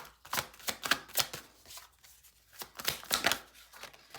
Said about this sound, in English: Those cards are like hard to shuffle.